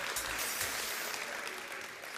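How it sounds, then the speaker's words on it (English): Brief, faint applause from an audience at a motoring roadshow event, a steady patter of clapping heard from a distance. "A round of applause for Speed Spares."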